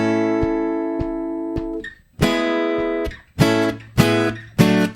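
Strummed chords from an acoustic guitar with dead-sounding old strings, playing a song intro: a steady run of short strums, then a pause and several loud, ringing chord hits that decay between strikes, close and alone.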